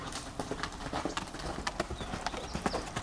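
A black Swedish Warmblood stallion canters, his hooves striking in a steady, close three-beat clip-clop rhythm that carries on without talk.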